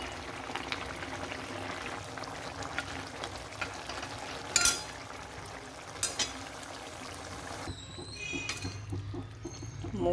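Bori lentil dumplings sizzling with okra in a pan, a steady soft frying hiss with occasional stirring clinks and scrapes, close and moderate, ending with a brief louder sizzle.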